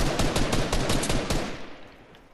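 Rapid bursts of automatic gunfire in a battle royale video game, a dense string of loud, sharp shots through the first second and a half that then thins out and fades.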